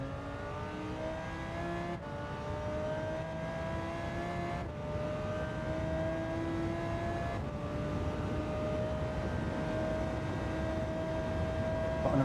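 A race car engine in Gran Turismo 7 holds a steady drone with rising pitch through the gears, broken by a few brief shift dips, heard close and continuous without any talk.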